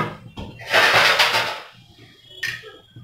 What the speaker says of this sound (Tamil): இருங்க, நான் இது மூடி போட்டுட்டு ஒரு கொதி வரட்டும்.